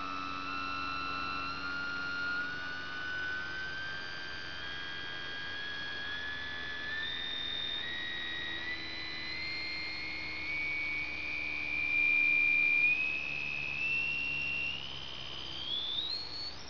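High-pitched electronic whine from PWM switching in a variable-frequency pulse width modulation controller, a steady tone that glides slowly upward in pitch over several seconds, with a faint low hum underneath.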